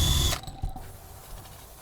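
A power drill spins a disc up abruptly to fling paint, a short loud whirring burst that cuts off after about a third of a second, leaving faint rattling and scattered clatter.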